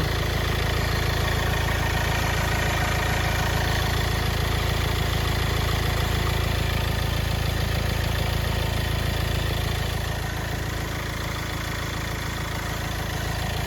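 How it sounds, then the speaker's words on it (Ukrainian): A 2013 Kia Sportage 1.7 CRDi diesel engine idles steadily for a long stretch, a constant low rumble with an even mechanical drone and no voices. "Двигун працює чудово."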